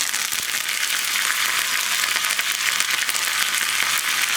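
Dried red chillies and curry leaves fry in hot oil for onion chutney, a loud, close, steady sizzle that fills the whole stretch without pause.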